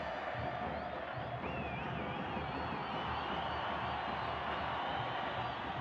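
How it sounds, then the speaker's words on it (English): Soccer stadium crowd at a Copa Centroamericana match, a steady dense roar of cheering and whistling swelling as a goal chance builds, continuous and loud throughout. "Crowd sensing maybe there's a moment here,"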